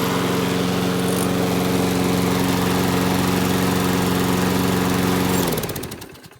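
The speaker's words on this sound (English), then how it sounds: "this is a great running lawnmower" A used push lawn mower's small gasoline engine runs steadily and loudly up close with a constant droning hum, then cuts out near the end as the sound winds down and fades into faint clatter.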